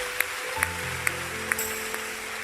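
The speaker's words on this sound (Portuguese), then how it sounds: "Pode aplaudir Jesus." A church congregation claps in a steady rhythm, sharp evenly spaced hand claps over a soft hum of sustained tones, fairly quiet and distant, with no voices.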